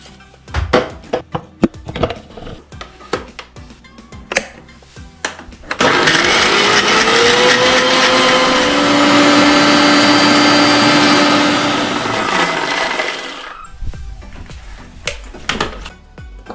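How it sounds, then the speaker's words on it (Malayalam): A kitchen blender grinds jackfruit seeds with milk for a shake, roaring loud and steady for about eight seconds between stretches of clattering, knocking handling sounds before and after. "ഇനി അതൊന്നും നമ്മൾ ഒന്ന് അരച്ചെടുക്കാം."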